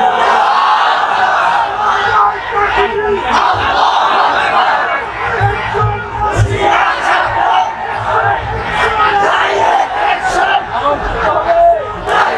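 A large religious gathering shouts takbir slogans in unison, a loud, dense roar of many voices that rises and falls in repeated waves.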